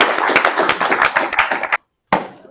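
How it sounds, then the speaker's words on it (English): Audience applause after a talk on multifamily financing, a burst of close, crisp clapping from a small group that cuts off abruptly, then briefly resumes. "Another round of applause because that was awesome."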